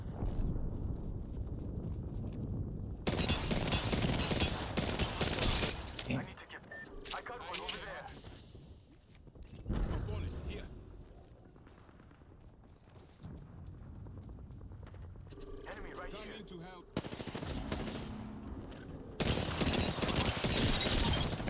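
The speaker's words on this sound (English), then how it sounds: "Getting shot at." Bursts of gunfire in the Apex Legends battle royale shooter, loud dense volleys in stretches with quieter gaps between, mixed with game effects and a player's voice talking over parts.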